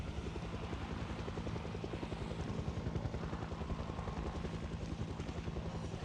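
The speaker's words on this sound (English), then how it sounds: "You're just walking around being followed by a helicopter, which draws attention of nearby zombies." In a zombie survival video game, a helicopter hovers steadily overhead, its rotor giving a loud, continuous chopping thrum with fast rhythmic blade pulses that persists evenly without any talking.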